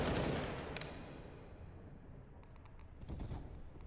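Gunfire in Counter-Strike on the Nuke map during a FURIA vs Astralis match: a burst of shots up front, then scattered, fainter reports and a few sharper cracks near the end, with a constant background rumble.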